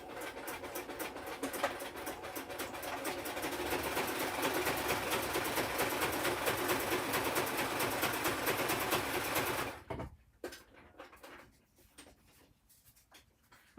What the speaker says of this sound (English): I'm going to sew all around this index card.